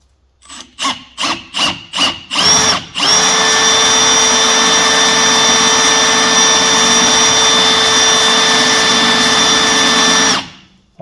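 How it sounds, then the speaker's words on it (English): A Milwaukee hole saw with a pilot bit cuts into a metal fabrication panel: several short rhythmic bursts as the cut starts, then a loud, steady grinding whine with a tonal ring that runs for about seven seconds before stopping abruptly. "And then I can move on to my hole saw here."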